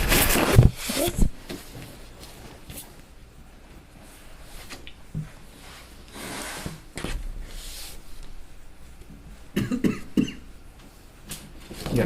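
A cough bursts out near the start during a community meeting indoors, followed by a scatter of small handling knocks and rustles and a few more brief sharp bursts later, with muffled voices faint in the room.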